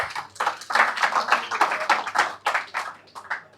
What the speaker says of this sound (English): Can we have a round of applause for him?